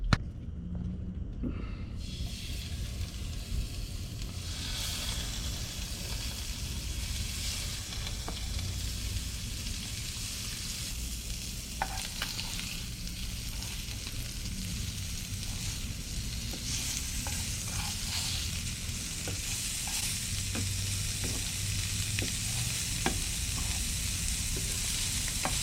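Seasoned fish fillets frying in olive oil, a steady close sizzle with occasional pops and light scraping, no talking.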